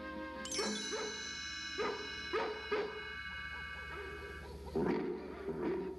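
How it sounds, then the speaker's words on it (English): Dogs bark and yip in a night-time relay of calls across London and nearby villages, several distinct barks spaced over a steady background, some near and some more distant, with a whimpering tone on a couple. "We'll use the twilight bark to alert all the dogs in London and in the villages nearby."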